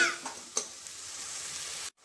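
Oil sizzles steadily in a frying pan, a continuous bright hiss with a couple of small clicks, then it cuts off abruptly near the end.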